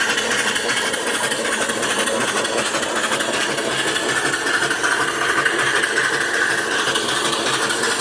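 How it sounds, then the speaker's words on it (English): A small steam engine with a freshly painted green flywheel runs steadily and close by, giving a continuous, busy mechanical whir and clatter at an even pace with no voices. "Really sweet running engine,"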